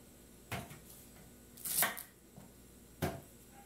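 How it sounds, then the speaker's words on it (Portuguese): A knife chops freshly washed cheiro verde herbs on a cutting board, giving a few sharp, irregular cuts close by with one rougher scraping stroke between them. No one speaks. "Já lavei e vou picar, ó"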